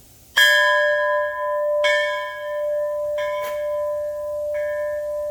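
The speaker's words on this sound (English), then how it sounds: "It's actually a bell, got a pretty unique sound." A handmade metal-art bell struck four times at uneven intervals, each strike ringing with clear sustained tones that linger and overlap between hits.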